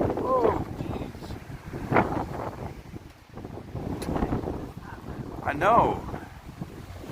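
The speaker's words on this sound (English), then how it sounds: "The wind is brutal tonight." Strong night wind on the Las Vegas Strip buffets the microphone in gusty rumbling bursts while people talk nearby.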